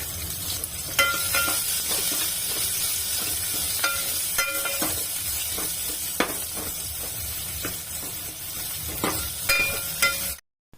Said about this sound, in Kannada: ಹಾಗೆಯೇ ಇದಕ್ಕೆ ಒಂದು ಒಣಮೆಣಸಿನ್ಕಾಯಿ ಮತ್ತು ಈರುಳ್ಳಿ ಹಾಕಿ ಸ್ವಲ್ಪ ಬಾಡಿಸ್ಕೋಬೇಕು.